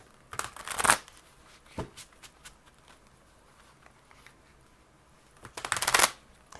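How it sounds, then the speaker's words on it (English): Tarot cards being shuffled close by, with a riffling burst at the start, a few soft taps and slides in between, and another fuller shuffle near the end, with no talk. "I'm going to move into pulling 3 Archangel Tarot cards for all of you."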